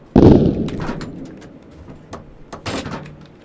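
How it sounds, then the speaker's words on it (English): Smoke grenade launchers fire from an armoured vehicle with its turret rotated sideways: one loud, close, booming pop, then a softer second discharge a couple of seconds later, with the outdoor surroundings otherwise quiet. "And we're going to fire the smoke again."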